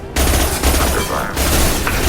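Sustained firefight gunfire in Mass Effect 2 while under attack: a dense, continuous fusillade of overlapping shots and impacts fills the whole moment, loud and close, with no clear pauses.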